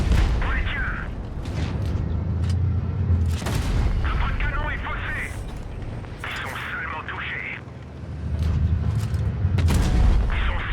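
Tank guns fire in World of Tanks Blitz in several sharp, booming shots spaced across the clip, with someone talking over the game sounds throughout.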